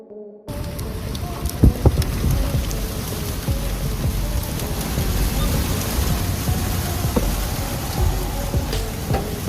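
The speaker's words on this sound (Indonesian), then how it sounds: "Badai dahsyat Oman." Heavy rain pouring down steadily during a severe storm in Oman, a dense loud hiss of drops hitting surfaces, with occasional louder splashes and knocks throughout.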